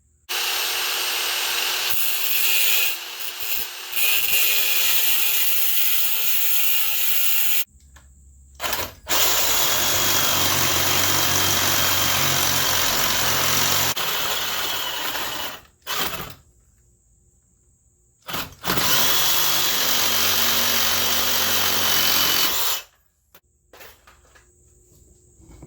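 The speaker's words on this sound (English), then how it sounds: "I'm going to start with a cutoff wheel, I think, first." A cutoff wheel grinds through a Dodge Caravan car wheel in long, loud, harsh bursts separated by short pauses and brief stops.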